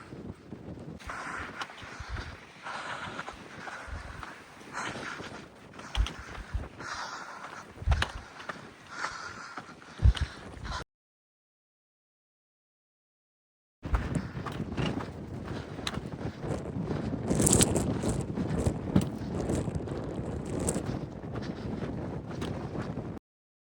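Strong gusting wind on an exposed mountain pass along the Pacific Crest Trail, roaring and buffeting loudly against the microphone in two long stretches split by a short gap of silence.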